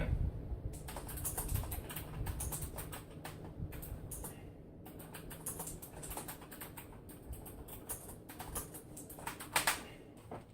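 Typing on a mechanical keyboard, a steady run of close, crisp key clicks in an uneven rhythm with a few brief pauses.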